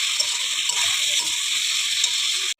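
Pieces of ash gourd fry in a pan with cumin tempering, salt and turmeric, giving a continuous close hissing sizzle that stops abruptly at the end.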